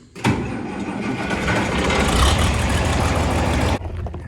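A John Deere 4320 tractor's diesel engine cranks and catches, running as a loud, steady, close rumble for about three and a half seconds before cutting off abruptly.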